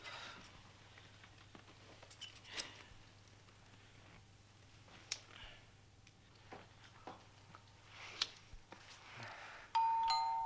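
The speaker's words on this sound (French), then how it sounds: "Tiens, on a sonné." A doorbell chimes indoors near the end, clear and fairly loud after a stretch of quiet room sounds with small rustles and taps.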